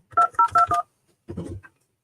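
Telephone keypad tones from a number being dialed: four evenly spaced dual-tone beeps in quick succession, then a short pause and a brief burst of further tones, loud and close with no talking.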